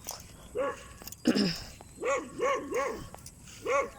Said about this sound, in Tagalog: Ayun yung aso.